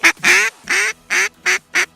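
Ducks quacking during a duck hunt, a close, loud series of six nasal quacks in an uneven rhythm, some short and some drawn out.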